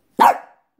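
Small dog giving a single sharp bark, close and loud, then silence.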